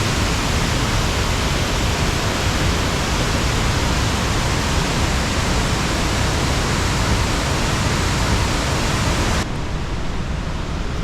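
Mae Klang Waterfall near Chiang Mai, Thailand roars as a dense, continuous rush of falling water, loud and unbroken throughout with no voices.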